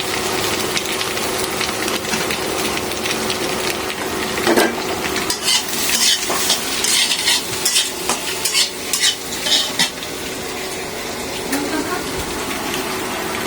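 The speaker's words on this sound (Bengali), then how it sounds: "এখন আমরা গাজর আলুগুলা ভেজে নেব" Carrots and potatoes frying in a pan: a loud, steady sizzle runs throughout with bursts of scraping and clattering stirs in the middle, close by, with a constant background hum.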